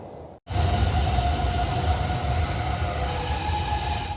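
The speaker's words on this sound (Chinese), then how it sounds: "我们现在坐河内轻轨来到了第5站" Loud, steady rumble of an elevated light rail train in motion in Hanoi, Vietnam, with a sustained whining tone over the rolling noise after a brief quiet start.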